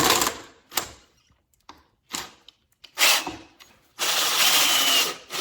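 A power drill drives a TimberTech fastener into an AZEK composite deck board without pre-drilling. There are several short whirring bursts separated by pauses, then a longer sustained run, all close and fairly loud.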